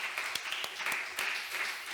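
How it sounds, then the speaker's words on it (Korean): A church congregation claps in encouragement, sparse and fairly soft, with a few sharper individual claps standing out over a light background wash. "우리 유수들 격려 박수 한번 주면 어떨까요?"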